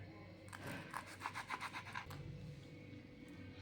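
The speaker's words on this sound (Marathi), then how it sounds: "आपण अशा प्रकारे मिरची कापून घ्यायचे" Green chillies being cut with a knife, heard as a quick run of about eight soft, rhythmic slicing taps close by, then a faint thud and quiet room hum.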